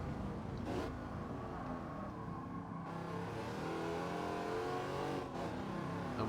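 A Wicked Fabrication GT 51 race car in Gran Turismo 7 pulls steadily in fifth gear on the Grand Valley South circuit, its engine holding a continuous mid-pitched drone that climbs only slowly, with no talk.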